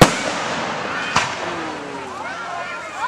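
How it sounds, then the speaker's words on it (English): Fireworks burst over a lake beneath a full moon during a July Fourth holiday show at an amusement park beach club, with one sharp nearby bang among continuous crackling and distant popping. "a fireworks display with the full moon"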